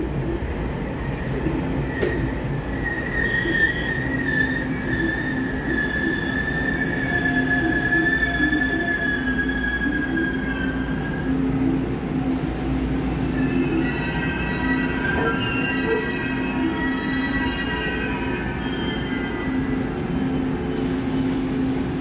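Taiwan Railway PP Tze-Chiang express train passing close by with a sustained loud rumble, wheel squeal and clickety-clack over about twenty seconds, with no talk.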